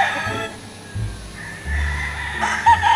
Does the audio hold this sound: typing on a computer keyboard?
no